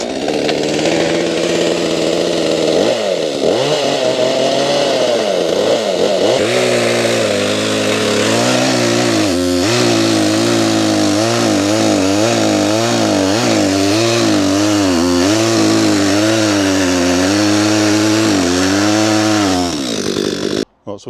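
A petrol DeWalt chainsaw runs loud and close for the whole stretch, its engine revving up and down in repeated surges as it cuts wood, then cutting out abruptly at the very end.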